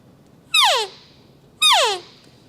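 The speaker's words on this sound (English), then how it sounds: "at the time I was using Primo's Hyperlip. It's an open reed." Two loud, close elk cow calls blown on a Primo's Hyperlip open reed call with the end muffled, each a short descending whine about half a second long, separated by a pause.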